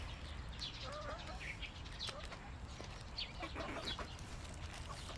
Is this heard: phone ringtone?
no